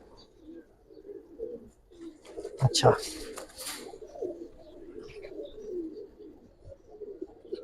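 Pigeons coo softly and steadily through a pigeon sale, with a loud sharp burst near the middle and someone speaking briefly over the birds.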